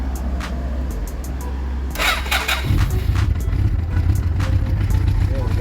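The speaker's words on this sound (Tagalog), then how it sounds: "Ngayon ko lang i-start ulit." A Suzuki Impulse 400 motorcycle, sitting unused for about a week after rain, cranks with a brief whir and catches in one try, settling into a low, loud, rapid idle close by, with a voice briefly heard.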